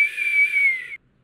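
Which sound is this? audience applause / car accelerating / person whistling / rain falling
person whistling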